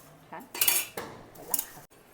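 Thin poha chivda for Diwali gets tossed in a metal plate, a few quiet clinks and scrapes of a spoon against the plate in short irregular bursts, close by with no talking.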